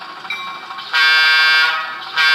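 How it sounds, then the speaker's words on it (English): A model train bell produced by a DCC sound decoder, heard close through a small speaker: a bright, metallic, ringing tone that holds steady and swells louder partway through, with no voices. "The bell."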